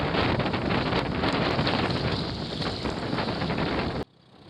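A boat motoring on Lake Ontario, heard as a steady loud roar of engine, wind and water rushing past, continuous and close, until it cuts off abruptly near the end.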